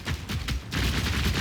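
Voltaic grenade launcher firing in Path of Exile 2, a lightning crossbow build: a dense run of rapid, booming shots and crackling bursts that grows into a steady, loud barrage with no talk.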